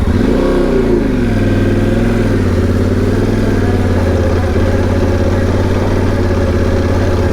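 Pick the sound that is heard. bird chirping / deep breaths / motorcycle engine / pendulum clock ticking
motorcycle engine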